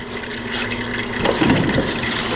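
Fluid drains from a Kubota compact tractor during its 400-hour service, a continuous splashing, trickling pour with gurgling bursts, close and fairly loud throughout.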